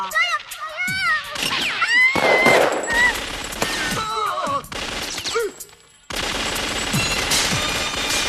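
Gunfire in an action film scene, with bursts of rapid shots and loud blasts mixed among shouting voices, music and other effects, then a brief drop to near silence before the noise resumes.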